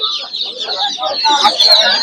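Chicks at a bird market give a dense, continuous chorus of shrill peeping and clucking close by, with a person talking underneath.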